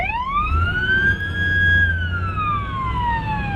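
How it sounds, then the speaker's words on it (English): A police siren wails, its pitch sweeping slowly up and then down, loud and close over low engine rumble. "It takes a dire situation to hear the sirens on this stretch of the Mackenzie Highway"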